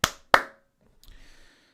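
Two crisp, loud hand claps sound close to a microphone during a sound check, evenly spaced, followed by a brief faint hiss and shuffling noise in an otherwise quiet room.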